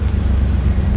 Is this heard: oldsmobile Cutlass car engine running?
yes